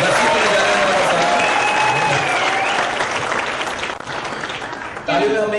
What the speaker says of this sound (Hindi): Big round of applause for Vikas.